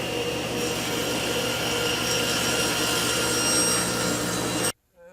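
A table saw on a crosscut sled cuts a rabbet in wood, giving a loud, steady roaring cut that holds for nearly five seconds before stopping sharply into near silence.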